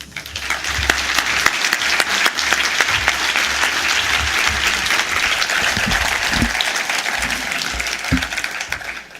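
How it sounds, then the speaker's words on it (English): A large audience at the 2012 AUCD Conference Meritorious Service Award ceremony applauds the award recipients, with dense, sustained clapping that stays loud and even for about nine seconds. "Please lend your applause."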